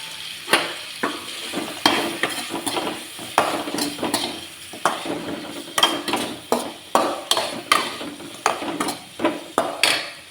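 Grated coconut sautés in oil in a pan, a low sizzle broken by a quick irregular series of spoon scrapes and knocks against the metal, close up with no voices.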